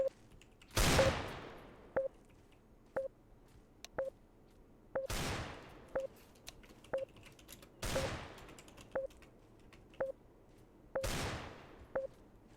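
Gunfire in CS:GO Jailbreak, four sharp, loud shots spaced a few seconds apart, each fading quickly, over regular quiet ticking beeps.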